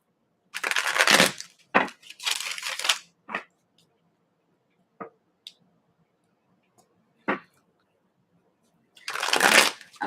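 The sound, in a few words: shuffling cards for a reading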